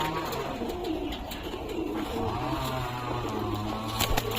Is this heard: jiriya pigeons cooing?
yes